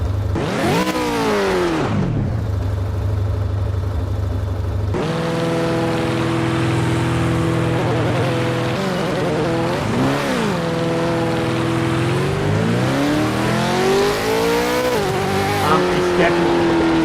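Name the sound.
racing cars revving in Gran Turismo video game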